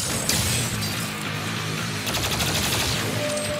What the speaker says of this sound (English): Oh, this is the new Gauss cannon.